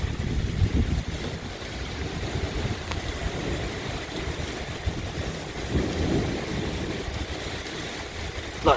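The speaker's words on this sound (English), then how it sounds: "Nice storm." A severe thunderstorm sweeps through a coastal island, with steady heavy rain and gusting wind making a dense, continuous roar that swells and eases, low rumbles underneath and no voices.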